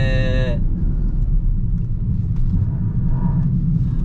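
A lowered Nismo Fairlady Z with a cold differential chattering as it drives, a steady low rumble of engine and road noise throughout, with a brief higher tonal whine at the very start.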